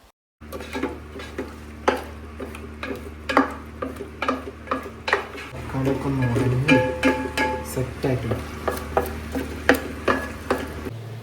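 Biryani masala with tomato is stirred in a pan for Palakkad-style biryani, with repeated clinks and scrapes of a spoon against metal over a soft background sizzle that grows a little fuller midway.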